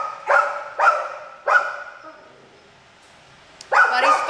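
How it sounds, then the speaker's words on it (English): A dog barks repeatedly inside a shelter kennel, four sharp, close barks spaced irregularly with a quiet gap before the last, echoing slightly in the kennel space. "We have Percy making all this noise"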